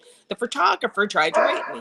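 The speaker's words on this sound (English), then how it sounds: "That's my dog." A pet dog barks and yips a few times in a house, the sharp barks mixed in with someone talking over them close to the microphone.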